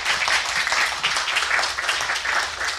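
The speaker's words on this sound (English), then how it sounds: "One more round of applause." A short burst of thick audience applause at a church forum gathering, many hands clapping together in a continuous wash, fairly close and steady with no voices over it.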